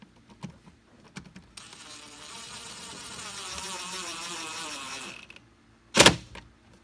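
A powered driver runs screws back into the plastic air filter housing of a 2014-2018 Chevy Silverado or GMC Sierra 5.3, giving a steady close whir for about four seconds, framed by small clicks and ending in a short sharp rattle.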